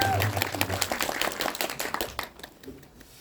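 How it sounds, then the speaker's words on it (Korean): An audience applauds at a film screening event for the director of The Age of Shadows (밀정), loud dense clapping that swells and then tapers off near the end. "큰 박수로 받아요."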